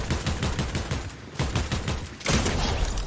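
Rapid bursts of gunfire in the Fortnite video game, close and steady volleys with a short pause midway, no voices.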